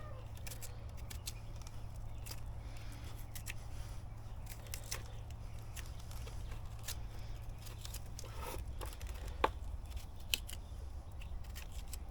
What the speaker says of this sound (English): I'm gonna cut it out just to make sure there's nothing on the inside that's really bad